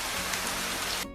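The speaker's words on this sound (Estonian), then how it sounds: "Mõnikord sajab vihma." Rain falling in a steady dense hiss that fills the whole moment, then cuts off abruptly at the end.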